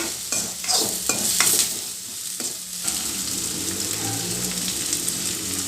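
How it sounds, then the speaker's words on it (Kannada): Curry leaves and spices fry in a hot pan for cowpea curry, a steady close sizzle with scraping stirs running through the whole stretch. "ಇದೆಲ್ಲ ಚೆನ್ನಾಗಿ ಸ್ವಲ್ಪ ಫ್ರೈ ಮಾಡಬೇಕು"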